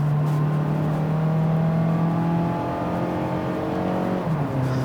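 Engine of a 2019 Mazda CX-3 droning steadily while cruising on a highway, a low sustained hum with a faint pitch shift near the end, loud and close with no talking.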